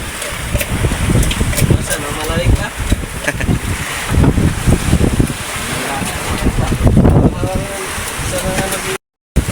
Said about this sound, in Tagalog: Malakas na rin yung hangin.